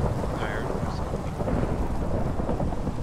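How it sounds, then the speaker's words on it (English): Steady rain and a low rolling rumble of thunder from a thunderstorm in the Minecraft video game, a dense continuous wash of sound throughout with no talk. "Tired of this goddamn thunderstorm."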